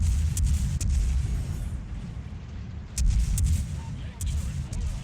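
Naval gunfire in the video game World of Warships, deep booming salvos rolling under a constant low rumble, with a few sharp louder blasts standing out near the middle and end.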